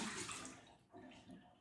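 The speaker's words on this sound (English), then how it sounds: "Let's go ahead and tip out this water now" Water being tipped and shaken out of a styrofoam cup, a short splashing pour at moderate level, with no talk in the moment.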